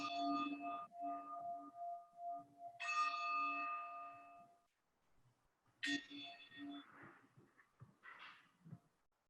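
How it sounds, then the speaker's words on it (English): Three bells ring one after another to open a meditation, each struck clearly with a bright tone that rings out and slowly fades into quiet. "in just a moment, you'll hear 3 bells"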